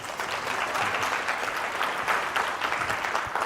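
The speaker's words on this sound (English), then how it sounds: "Can you give a round of applause?" A crowd applauds steadily, dense overlapping claps sustained throughout at an even, fairly loud level.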